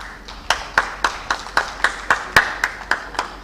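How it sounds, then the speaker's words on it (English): At the Energize Empower East 2024 conference welcome, a single person claps steadily and close, with about a dozen evenly spaced, sharp hand claps over a faint murmur of wider applause. "Kindly give them a round of applause, please."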